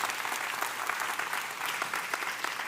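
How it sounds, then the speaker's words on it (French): An audience claps steadily and fairly loudly at a marketing conference after a half-hour talk, a dense unbroken patter of many hands with no voices over it. "On peut l'applaudir."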